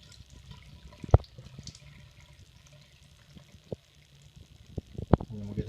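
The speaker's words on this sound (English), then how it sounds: "go and pour out the water" Water is poured out of a brass tumbler holding .308 cartridge cases, with a few sharp splashes and clinks against a quiet background.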